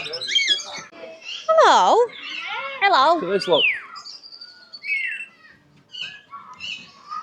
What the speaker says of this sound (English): All different types. Parakeets and parrots.